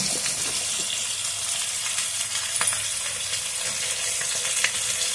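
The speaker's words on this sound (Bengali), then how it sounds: "যে মাছগুলো ফুটছে" Bhetki fish fries in hot oil in a pan, giving a continuous close crackling sizzle with scattered pops and a few light utensil clinks, steady throughout with no voices.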